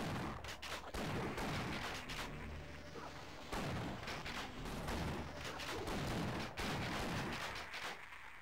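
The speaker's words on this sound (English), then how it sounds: "Two shotgun blasts and they die." Shotguns fire in the Half-Life: Decay video game, loud repeated blasts roughly every second or so, each with a sharp crack and a booming decay, amid other gunfire.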